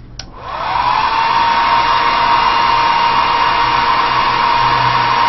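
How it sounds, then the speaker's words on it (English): A hair dryer blows steadily and loudly after switching on, drying the parts of a disassembled airbrush, its airflow a continuous whooshing roar with a high whine that holds without a break. "I'm also going to wonder why I continue to throw this stupid blow dryer all the way into the table."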